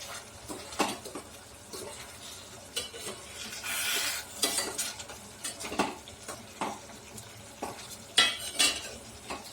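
Boiled eggs fry in a pan for a Tamil egg curry and are turned over with a utensil, giving soft sizzling under scattered scrapes and metallic clinks against the pan, close and moderately quiet.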